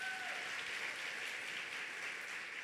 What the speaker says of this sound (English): Hey, clap that up.